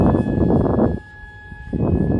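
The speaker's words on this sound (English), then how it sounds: "It's just such a great flying airplane." An electric ducted fan (EDF) model jet airplane flies past with a loud, close, breathy roar under a thin steady whine. The roar drops away briefly and then surges back.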